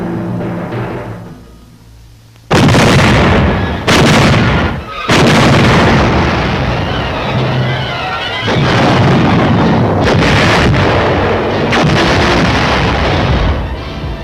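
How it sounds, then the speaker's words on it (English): WWII artillery fires on a New Guinea island in a string of heavy booming blasts, each loud report followed by a rumbling roar that merges into sustained thunderous barrage. "placed our artillery and commenced firing at"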